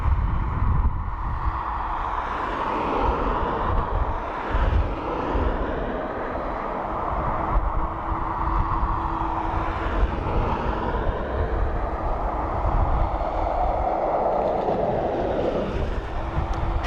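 An American Airlines Airbus A330 widebody at Dublin Airport rumbles with a steady, broad jet-engine roar from a moderate distance, swelling and easing slightly over a long, unbroken stretch.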